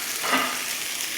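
Three onions, two peppers and two cloves of garlic frying in a pan make a steady, soft sizzling hiss that swells briefly near the start, with no talk.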